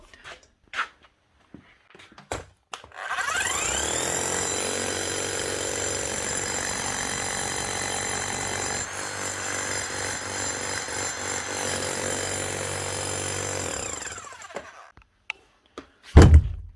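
A Bosch GSH 5 CE demolition hammer, just repaired and fitted with a chisel, runs for about eleven seconds, loud and close, with a steady rapid hammering drone, plus a few handling knocks before and after.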